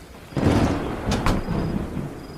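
Thunderstorm with rain: a loud, broad rumble rolls in after a quiet start, then two sharp cracks strike close together over a steady wash of rain.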